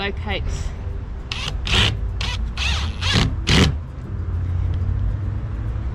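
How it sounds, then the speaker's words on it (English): An impact driver drives a screw into guttering in a series of short, loud rattling bursts, a handful of them spaced unevenly over a few seconds, with a steady low hum underneath. "grab my impact driver, grab a screw, and I'm going to hold that back up"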